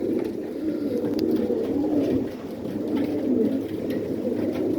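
Many pigeons cooing together in a busy dovecote during breeding season, a dense, steady low hum of overlapping coos that fills the space without pause.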